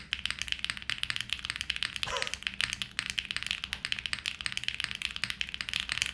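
Rapid, continuous typing on a foamy mechanical keyboard with soft, muffled clacks in a steady patter, close by, with a brief higher-pitched sound partway through.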